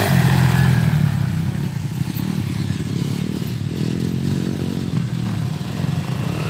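A built Suzuki DR-Z dirt bike engine runs steadily at a motocross school track, a loud continuous rumble with some clatter and light throttle changes, no speech.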